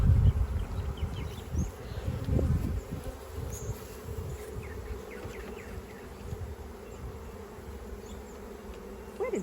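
Steady buzzing of many bees around a hive as it is packed up at the end of the season, a close, continuous drone with some rustling and handling noise, and no talking.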